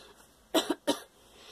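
Two short, sharp coughs from post-nasal drip in quick succession, close by, with a brief throat-clearing quality, against a quiet background.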